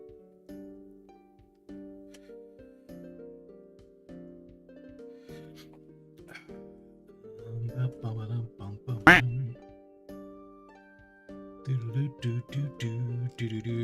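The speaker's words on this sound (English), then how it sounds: "Do I need to disable the quacks?" Cartoonish duck quack sound effects play on a livestream: a series of spaced quacks, then denser clusters of rapid quacking, one loud burst in the middle, with music-like tones running underneath.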